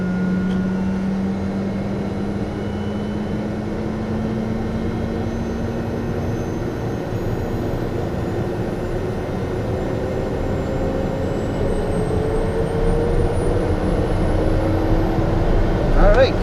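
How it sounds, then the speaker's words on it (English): A TBM850 turboprop engine starting up, a steady roar with a slowly rising whine climbing in pitch throughout, loud and continuous with no talk over it. "Looking for hot starts and hung starts on the engine"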